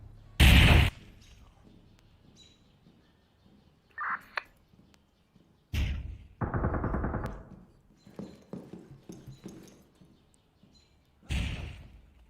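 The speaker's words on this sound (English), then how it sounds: "Oh, grenade." In a shooter video game a grenade blasts and gunfire rattles in loud, separate bursts, with an opening blast, a long crackling volley in the middle and a final boom, and quiet gaps between them.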